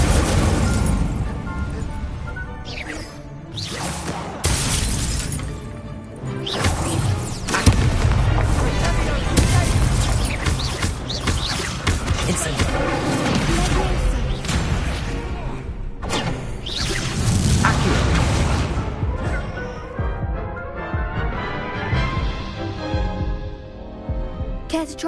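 The Incendio fire spell bursts in Hogwarts Legacy as a series of loud whooshing blasts and booming thumps, repeated several times in a busy combat mix before things settle toward the end.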